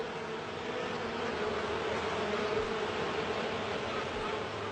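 Dense swarm of honeybees working at a hive, a steady, close buzzing drone that holds evenly throughout with no voices.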